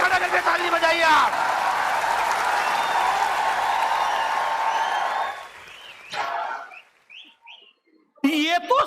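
Audience clapping at a Hindi poetry recital (kavi sammelan), sustained applause for about five seconds, then a short quiet stretch with faint sounds and a brief burst at the end.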